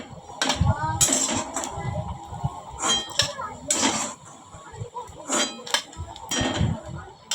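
Metal utensils clink and scrape against a pan as fried chowmein pakoras are lifted out, a run of irregular sharp clatters at close range with a voice talking intermittently between them.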